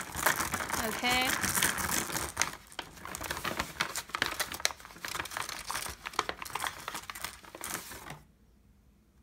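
Stones rummaged in a container to draw one, clustered clinks and rattling clicks, close and fairly loud, with a brief spoken word early on, ending in quiet.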